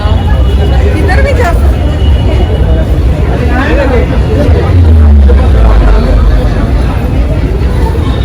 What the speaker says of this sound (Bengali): বালেবাড়ি হাই স্ট্রিটে ক্রাউড দেখো